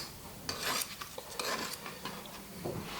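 A knife trims the pastry edge of a Bakewell tart in its tin, making a series of quick, close scraping and rasping strokes.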